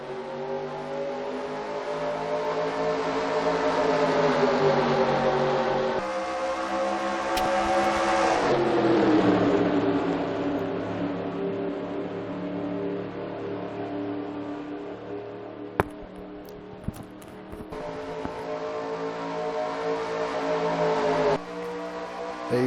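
Stock cars from a NASCAR video game race at Daytona, a steady loud engine drone with shifting pitch as the field runs together, briefly dipping and swelling without pauses.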